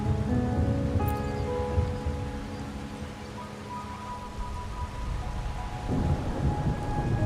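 Rain and thunder in the video game Wuthering Waves: a steady downpour of rain on surfaces with low rolling thunder rumbling beneath, continuous and ambient, with no voices.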